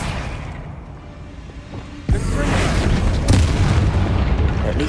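Bombarda explosion spell from Hogwarts Legacy: a sudden loud blast that stays up as a sustained rumbling roar with a second burst partway through, over quieter game ambience.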